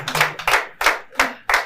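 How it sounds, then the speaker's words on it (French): An audience at a live Saturday evening show claps in distinct bursts, loud and close, roughly five sharp rhythmic swells without voices. "On applaudit."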